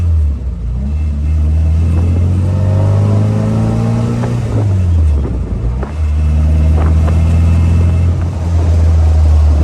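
An Austin Healey Bugeye Sprite engine runs loud and close, revving up through rising notes, dropping briefly at a gear shift around midway, then pulling again with a steady rumbling exhaust.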